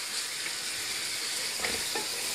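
Mutton pieces fry in a pan with two white cardamom pods for mutton palak, a steady close hiss of sizzling with a couple of light stirring scrapes near the end, no talking.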